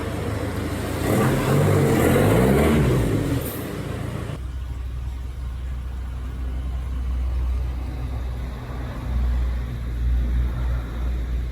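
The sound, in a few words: car engine running and revving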